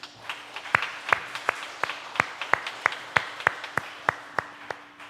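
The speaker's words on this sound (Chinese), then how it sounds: "咱用掌声来欢迎因。" A church congregation claps in welcome at a Sunday service, about a dozen sharp, fairly regular hand claps spread over a few seconds, moderately distant and fading out.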